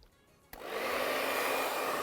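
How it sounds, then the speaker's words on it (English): A hair dryer switches on at medium heat after a brief quiet moment and settles into a steady, close, even whoosh, with no talking over it. "Dryer. You put it in the medium heat, not too hot to burn the client."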